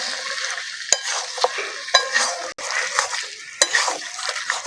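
Chicken liver and neck frying in a pan while being stirred, giving a loud close sizzle broken by repeated sharp scrapes and knocks of the spoon against the pan.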